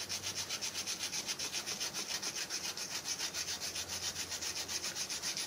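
Stiff brush scrubbing salt off the painted metal surface of a rusted scale model, a steady back-and-forth rasping repeated in quick even strokes, close and continuous with no talking.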